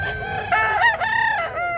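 A black rooster over six years old crows nearby, a loud, wavering cock-a-doodle-doo filling the short moment, with no talking.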